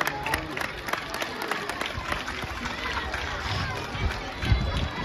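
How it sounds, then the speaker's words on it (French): An audience at a school excellence day in Diawara applauds Dr Dienaba Ba: a dense, steady patter of many hands clapping throughout, close and fairly loud, with voices mixed in. "Sous vos applaudissements, hein?"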